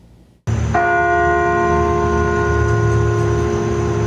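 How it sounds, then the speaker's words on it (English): A large bell rings out and keeps sounding with a long sustained hum, loud and resonant, after a short quiet start. "Bells ringing in the old chapel at the University of Massachusetts Amherst"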